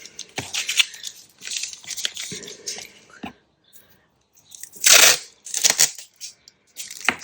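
Ordinary sticky sellotape strip being cut and handled on grease-proof paper, a series of close crinkly snips and peeling crackles in irregular bursts with quiet gaps between.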